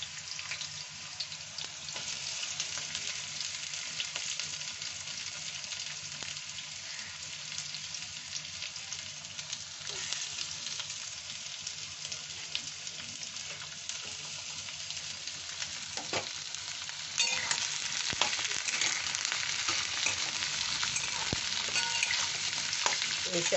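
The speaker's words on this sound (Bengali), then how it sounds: "মিডিয়াম আঁচে ভাজতে হবে। রসুন দিয়ে দিলাম, পেঁয়াজের স্লাইস দিয়ে দিলাম," Garlic and onion slices frying on medium heat, a dense continuous sizzle that grows slightly louder partway through, with faint stirring scrapes and no speech.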